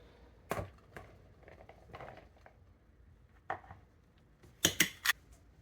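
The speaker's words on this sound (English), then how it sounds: "Okay, we'll add the chickpeas." Drained chickpeas tipped into a salad bowl, a few soft scattered clatters and taps, with a louder cluster of rattling hits near the end, close and otherwise quiet.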